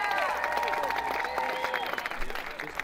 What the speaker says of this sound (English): Thanks for applause.